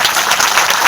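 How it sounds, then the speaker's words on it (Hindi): Church congregation clapping in thanks to the Lord during a sermon, a dense, loud burst of many hands applauding together with no voices over it. "ताली बजा के प्रभु का धन्यवाद"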